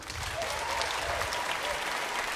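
Audience applause at a jazz orchestra concert, a dense, steady wash of clapping from a large crowd, loud and continuous for a couple of seconds.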